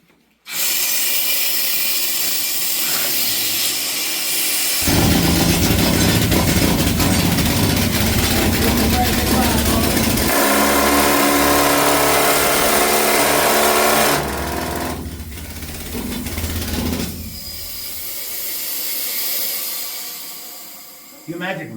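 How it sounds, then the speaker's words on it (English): A loud pneumatic mining drill hammers underground in a Colorado gold mine, running in long continuous bursts with harsh roaring tones, echoing in the tunnel, then cutting out before a final restart. "I'm also going to demonstrate this drill for you"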